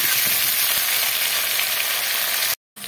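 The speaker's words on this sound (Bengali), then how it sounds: "আলুগুলোকে একটু ভাজা ভাজা করে নেব" Cut potatoes frying in hot oil for a Bengali fish roe dish, a dense continuous crackling sizzle close by that drops out abruptly just before the end.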